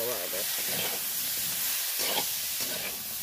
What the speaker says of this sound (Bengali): মসুর ডালও একটু ভেজে নেব আমি এই সবজির সাথে।